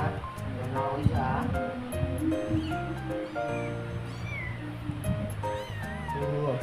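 A litter of five young kittens meowing repeatedly in high, wavering cries, close to the microphone, with soft rustling and handling noise underneath.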